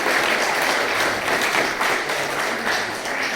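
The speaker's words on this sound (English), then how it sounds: "big round of applause" Guests at a December evening gathering give a big round of applause, steady dense clapping from a roomful of people holding at an even level throughout.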